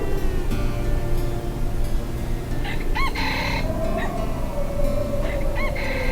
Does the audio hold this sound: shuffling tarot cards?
no